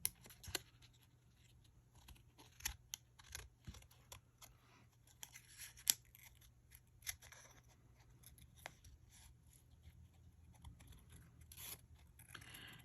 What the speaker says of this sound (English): cut around the outside to trim the excess vellum off